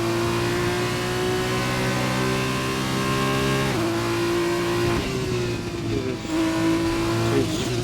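Formula 2 race car in iRacing on a flying lap at Japan's circuit, high engine whine held steady, then dipping and shifting through the S-curves, loud and continuous with faint commentary beneath.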